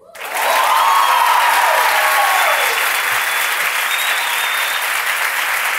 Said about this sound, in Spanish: No lo sé, pero aplaudan igual.